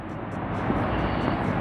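A top fuel dragster's nitromethane-burning V8 engine roars in a dense, loud, rough blast that holds steady for under two seconds.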